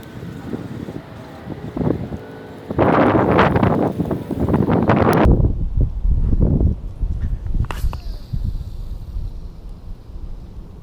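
Gusty wind on open water during a fishing trip buffets the microphone in loud bursts that rise and fade, with quieter lulls and a few faint knocks in between.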